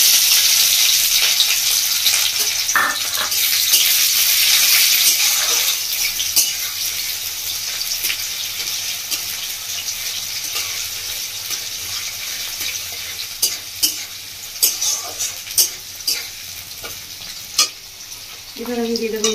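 Chopped onion, ginger and garlic hit hot oil with dried red chillies in a pan, a loud hissing sizzle that gradually settles, then a run of rhythmic spatula scrapes and taps near the end.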